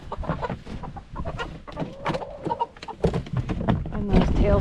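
A crowd of chickens and roosters being moved at night clucks and squawks close by in dense, overlapping calls, with people talking among them.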